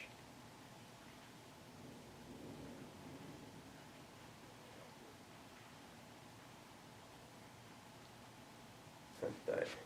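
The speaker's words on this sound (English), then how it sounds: "It's slashing rain here and I'm right underneath the skylight." Heavy rain slashing down on a skylight directly overhead, heard from the room below as a loud, steady broadband hiss that fills the whole stretch, with a few brief thumps near the end.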